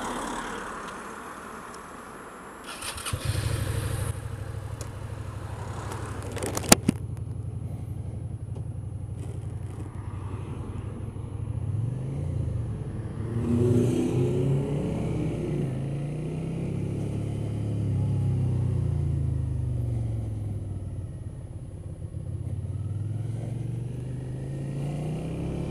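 A motorcycle engine cranks and catches, then settles into a steady idle with several rising and falling revs, close and fairly loud with no voices.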